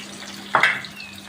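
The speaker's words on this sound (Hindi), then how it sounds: "प्याज़ों को हमने फ्राई करना है, ब्राउन करना है इनको तकरीबन 4 से 5 मिनट।" Finely chopped onion drops into hot oil with a brief sharp sizzle that quickly settles into faint frying, close and alone.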